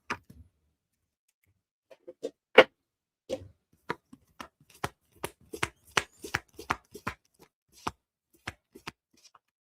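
Tarot cards being shuffled and handled by hand, a sparse run of sharp dry snaps and riffles close up, a few isolated clicks followed by a denser irregular flurry, with no talking.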